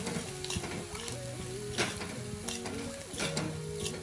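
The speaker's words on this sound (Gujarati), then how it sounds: "આપણે એને પ્રોપર એકદમ મસ્ત ચોપ હલાવી નાખશું" Garlic chutney with cumin sizzles in a pan while being stirred, a continuous crackling fry with soft utensil scrapes and clinks scattered throughout, with a faint tonal hum underneath and no voices.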